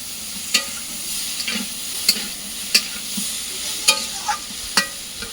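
Curry being sautéed in a pan, a low simmering sizzle broken by sharp metal spatula scrapes and taps roughly every half second to second, close up and without any talking.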